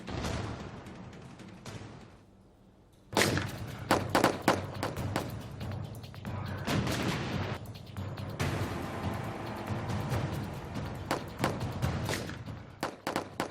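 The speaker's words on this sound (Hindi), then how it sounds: "दिन दहाड़े ताबड़तोड़ गोलियां, बमबारी, चीख पुकार, अफरा तफरी और सनसनीखेज हत्याकांड।" Gunfire and bomb-blast sound effects from a Hindi news report on a daytime shooting and bombing in Prayagraj. A quiet lull gives way to a burst of loud, sharp cracks and heavy thuds over continuous rumbling noise.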